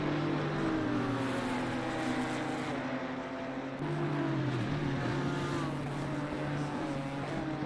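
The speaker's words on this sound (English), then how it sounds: "just following David Wirch, about to get lapped there by Maciej Markowski in the Lamborghini." Race cars lap Mount Panorama in Assetto Corsa Competizione during an endurance event, with a Lamborghini closing on a Mercedes. Engines drone loudly and continuously, and the pitch rises and falls with brief shifts. No one speaks.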